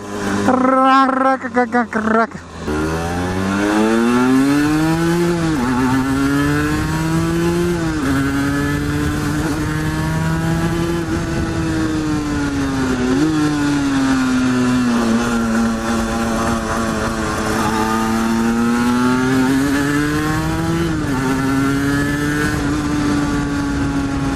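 A 2021 Aprilia RS 125 two-stroke sport motorcycle revving close by: a loud, raspy, buzzing engine note whose pitch swings up and down through repeated throttle blips, over several seconds of sustained revving.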